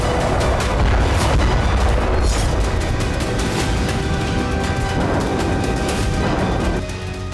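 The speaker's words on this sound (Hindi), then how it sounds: "राफा में बम बरसाए जा रहे हैं।" Bombs exploding over Rafah, where residential areas and refugee camps are under bombardment, heard as a loud, continuous wash of deep booms and rumbling blasts with crackling bursts, with no speech.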